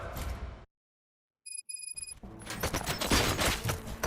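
Gunfire in the RoboCop: Rogue City video game: a burst of dense, loud shots and clatter after a brief silence and a few electronic beeps.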